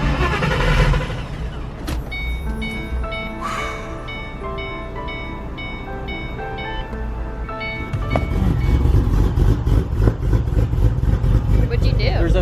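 A Ford Mustang GT500 engine starts up after a fuel reset button is pressed, its steady idle rumbling with a chiming warning tone, then swelling louder into a rougher, fuller roar near the end.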